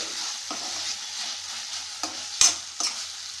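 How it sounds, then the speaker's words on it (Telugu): Tomatoes fry in a pan for amaranth curry with a soft, steady sizzle, broken by a few sharp scrapes and taps of a stirring spoon, close and moderately loud, with no talking. "టమాటా ఈవెన్గా ఫ్రై అయ్యింది"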